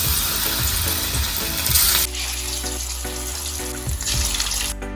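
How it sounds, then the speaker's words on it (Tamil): Chicken pieces frying in hot oil, a loud, steady broadband sizzle with bubbling crackle that continues throughout, close up with no talking. "சிக்கனை பொரிச்சு எடுத்து வச்சுக்கலாம் வாங்க."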